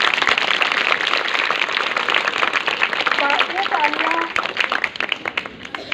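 Crowd applause at a government senior secondary girls' school event in Rupana, a dense sustained wash of clapping that thins toward the end, with faint voices mixed in.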